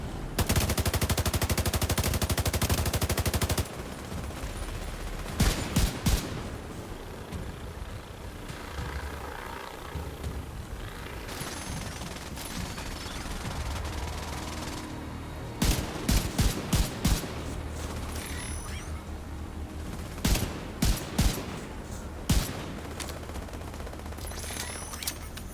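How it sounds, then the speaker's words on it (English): SMG fire in The Division 2 rattles out in repeated short bursts over a dense, constant wash of battle noise, with louder clusters of shots standing out toward the end. "Now I can hear the SMG going off left, right, and centre."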